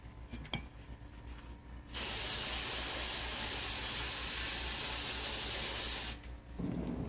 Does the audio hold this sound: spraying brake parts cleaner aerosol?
yes